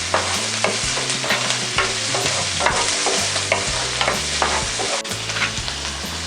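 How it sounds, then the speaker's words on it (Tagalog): Garlic and onion stirred while frying in a pan for lomi, a loud continuous sizzle layered with repeated spatula scrapes and taps against the pan in an irregular rhythm, up close. "Tapos hahaluin po natin."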